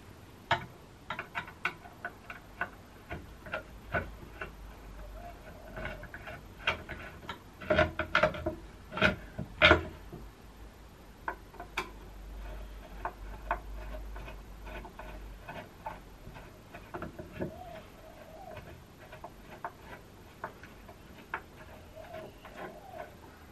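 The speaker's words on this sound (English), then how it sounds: "And then it's just a boring bit of me tightening screws." Screws being tightened during reassembly of a British Ericsson type 35MW wall telephone: scattered small metallic ticks and clicks from a screwdriver, irregular and close, with occasional louder knocks, no talk.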